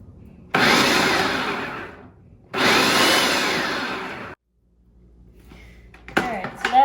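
A food processor pulses and purees persimmons to a pulp for a steamed pudding, running in two loud broadband bursts of about two and four seconds, then cutting off before faint clattering and a brief voice at the end.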